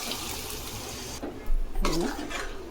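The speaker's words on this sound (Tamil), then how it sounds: "இப்போ நாங்கள் இந்த ராஜ்மா குக்கரில் இருக்குல்ல, இது அப்படியே இதில் போட்டுக்கலாம்" Cooked rajma is poured from a pressure cooker into gravy, giving a wet, splashing pour over a steady kitchen background, with a brief louder slosh midway.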